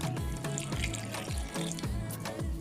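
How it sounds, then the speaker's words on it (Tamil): Half a cup of milk pours into a mixer jar holding banana and two cardamom pods for halwa, a close, continuous liquid stream with a gurgling rhythm lasting a couple of seconds. "பால் அரை கப் சேர்த்துக்கலாம்."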